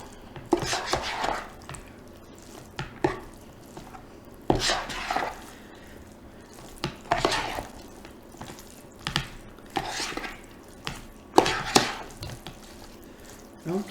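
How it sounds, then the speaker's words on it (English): Pasta and meatballs in sauce are stirred in a bowl, giving a series of irregular wet squelches and spoon clinks against the dish, close and moderately loud with quiet pauses between strokes. "And we'll just stir that around, get everything coated really well with the sauce."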